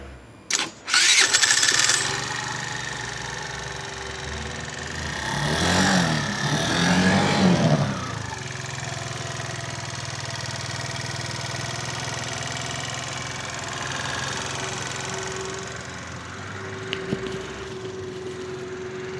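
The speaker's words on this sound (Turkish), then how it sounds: "Motor bitti bir marşa basalım mı?" A Mondial Wing 50cc scooter with about 500 km on the engine cranks and catches after a few sharp clatters, revs briefly, then settles into a steady, fairly quiet idle hum that runs on alone.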